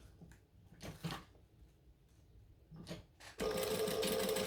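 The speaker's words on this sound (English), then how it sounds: "So the best way to do this is to sew in the crease." A sewing machine stitching a seam in the crease of folded fabric, a brief quiet start and then a sudden steady burst of fast whirring stitches, close by, with no talking.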